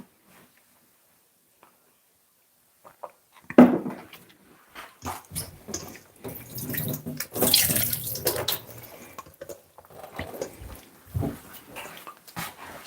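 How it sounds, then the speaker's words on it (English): Tap water runs into a kitchen sink as raw chicken is rinsed, a steady splashing and gushing that swells loudest in the middle, with brief handling clatter and no talking. "After you wash him off, we're gonna drain him off in the sink."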